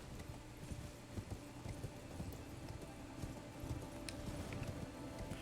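A horse galloping in the Elden Ring video game, with rapid, continuous clip-clop hoofbeats close and steady throughout, amid low background game ambience and no talk.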